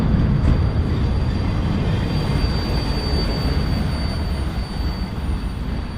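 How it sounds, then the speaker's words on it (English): A long train rolls steadily past nearby, its wheels rumbling and clattering in a continuous loud drone with a faint high whine of wheel squeal above, no voices. "Although he could have fooled me because this train is still very long."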